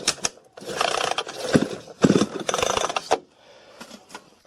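Repeated pulls on the recoil starter of an Iron Angel GS700 chainsaw with a faulty manual starter: several long rasping whirs in bursts, close and fairly loud, with short gaps between pulls and no engine catching.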